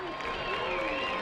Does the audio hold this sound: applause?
yes